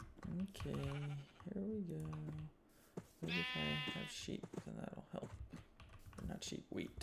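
Sheep in the Minecraft Create mod give a few wavering bleats, close and clear, while a person keeps talking over the game.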